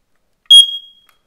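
An old combined carbon monoxide and smoke detector under test gives a single loud, piercing high-pitched beep that rings out briefly and fades, with silence before and after.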